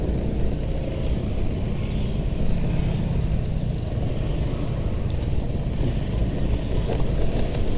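Steady street traffic of cars and motorcycles on an Indonesian road in the afternoon, a continuous low engine rumble and idling hum with no breaks, fairly close and even in loudness throughout.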